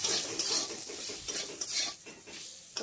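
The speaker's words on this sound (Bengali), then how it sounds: "দিয়ে ভালো করে নাড়িয়ে নেবো" A spoon stirs poppy seed curry with drumstick pieces and potatoes in a pan, sizzling softly beneath repeated scraping strokes against the metal, close and fairly quiet, with a few light clinks.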